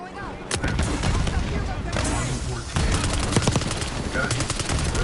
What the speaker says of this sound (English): Grenade going up.